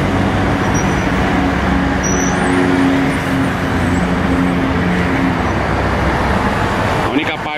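Steady traffic drone of cars rolling through a newly opened road tunnel by Arena Corinthians in São Paulo, a continuous loud rumble and hiss throughout, with a brief burst near the end.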